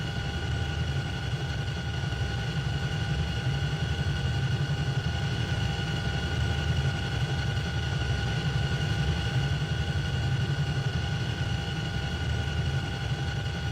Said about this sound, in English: It's such a big helicopter.